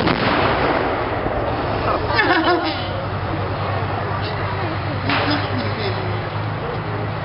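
A tank gun firing blank rounds at the War and Peace Show, heard as a loud, rough blast from a distance amid steady crowd and engine noise, with a second report following a few seconds later as people talk nearby.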